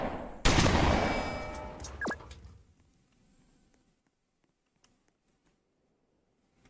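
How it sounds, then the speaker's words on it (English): Shotguns fire in the Roblox combat game Noobs in Combat: a sudden loud burst of overlapping blasts and rattling shots that decays over a couple of seconds into near silence with a few faint clicks. "Fire your shotguns."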